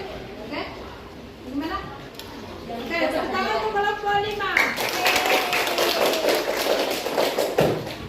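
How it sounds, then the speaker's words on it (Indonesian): A classroom applauds a student group: chatter and voices at first, then clapping builds into a steady patter of hands from a modest group, with talk continuing underneath. "tepuk tangan untuk kelompok 5"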